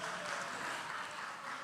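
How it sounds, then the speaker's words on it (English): Audience applause for Miss Garden Parish at an MSME procurement boot camp, a soft, steady wash of clapping from a distant crowd. "give her a round of applause again"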